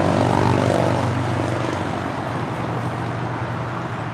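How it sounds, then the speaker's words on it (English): Steady broad roar of an Emirates A380 airliner taxiing toward the gate at LAX, loud and constant with a slowly easing rumble and no talk. "And the Emirates A380 now"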